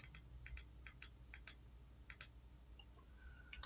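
Faint, sharp computer mouse clicks at a desktop computer, about nine of them, some in quick pairs, set against a low steady room hum with no talking.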